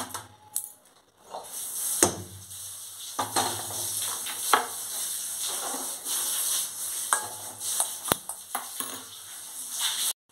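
Oil heating in a kadai for a Bengali kumro pata paturi, crackling and sizzling steadily with scattered sharp pops and spatters, close and fairly loud with no voices.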